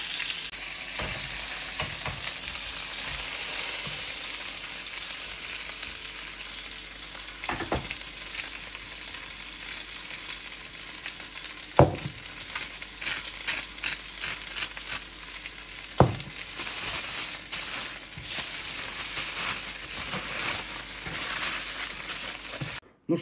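Chuck roll beef steak fries in a pan with butter, salt and pepper, giving a steady close sizzle for the whole stretch, broken by a few sharp pops and clatters, with no talking.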